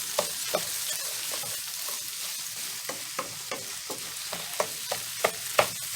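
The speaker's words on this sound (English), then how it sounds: "next we're going to add our long grain rice. Go ahead and mix that up and brown for 2 to 3 minutes" Long grain rice is stirred and browned in a pan with vegetables and sausage, a steady sizzle running underneath while a spoon scrapes and taps the pan every half second or so, close and with no one talking.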